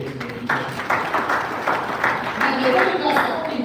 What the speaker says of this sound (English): let's clap for ourselves because we're getting education.